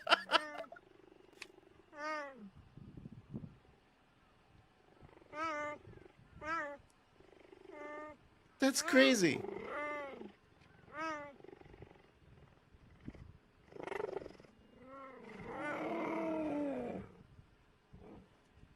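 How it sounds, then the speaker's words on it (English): A cheetah gives a series of short, high, chirping meows, spaced irregularly through the stretch, with a brief spoken reaction and some background voices mixed in. "I've never heard a cheetah meow before."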